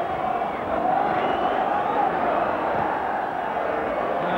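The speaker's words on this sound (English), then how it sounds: "The whistles you can hear come from the crowd." A football crowd at an FA Cup fourth-round replay between Everton and Middlesbrough gives off continuous distant whistling over a broad roar. The noise holds steady throughout, with a commentator's voice faintly present.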